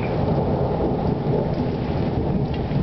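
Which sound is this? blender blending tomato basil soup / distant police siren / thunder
thunder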